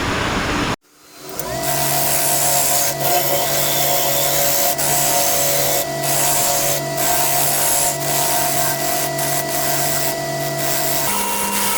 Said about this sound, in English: I'm going to do a whole bunch of sanding.